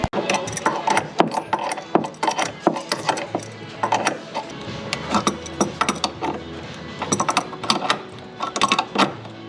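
Ratchet wrench tightening bolts on a frame, giving rapid clicking pawl bursts in short repeated runs, close and fairly loud, with brief pauses between strokes and no talking.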